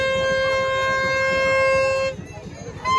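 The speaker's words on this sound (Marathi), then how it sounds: "आता बघा इकडे साराने भोंगा पण घेतलाय. जत्रेत आज मस्त मज्जा आहे भोंगा वाजून." A toy horn is blown at a village fair during Hanuman Jayanti celebrations. It gives one long, steady, reedy blast, then a short toot, over the chatter and bustle of the crowd.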